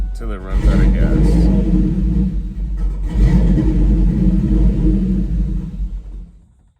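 A New Edge Ford Mustang engine idles with its fuel pump fuse pulled until it runs out of gas, giving a loud, steady low rumble close by. Near the end it sputters and dies away to silence.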